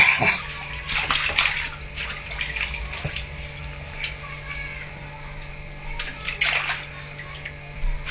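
Bath water sloshing and splashing in a tub as a small child moves around, with bursts of splashing between quieter stretches and faint voices in the background.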